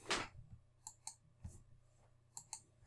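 Several crisp, quiet computer mouse clicks spaced across a couple of seconds while settings are saved in accounting software, with no talking.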